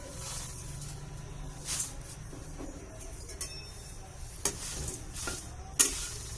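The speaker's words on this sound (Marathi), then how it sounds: "आता कढई गरम झालेली आहे, आता थोडे थोडे करून आपण पोहे भाजून घेऊया।" Poha flakes dry-roasting in a hot kadhai for chivda, giving a soft continuous sizzling hiss with scattered scraping stirs and a few sharper clinks of the spoon against the pan.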